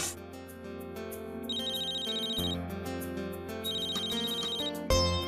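A telephone ringtone plays in a home setting, a bright repeating electronic melody over a steady musical backing, loud and continuous with no talk.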